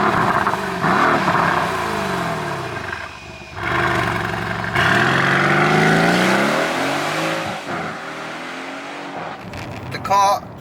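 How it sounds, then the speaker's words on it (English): A Mercedes-AMG GLC 63 V8 SUV engine rumbles steadily nearby in comfort mode, its exhaust note rising and falling as it idles and revs, with a brief higher whine near the end. "like the exhaust and stuff. You can still hear it like rumbling away."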